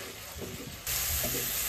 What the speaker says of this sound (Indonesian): Lalu ini lanjut ditumis hingga bumbunya ini benar-benar matang.